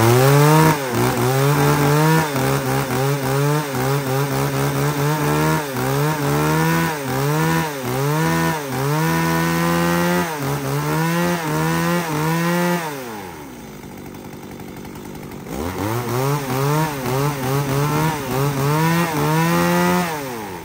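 A used Japanese-market chainsaw, one of Stihl, Echo, Shindaiwa or Tanaka, runs close and loud, repeatedly revving up and down in a steady cycle, then idles down briefly before revving again.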